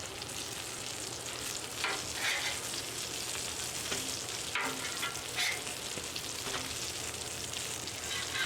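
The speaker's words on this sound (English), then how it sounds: "it's frying. It's doing its thing." Steady, dense sizzling of chicken fried steak frying on a hot Blackstone griddle, a continuous crackle with occasional louder pops, close and fairly loud, no talking.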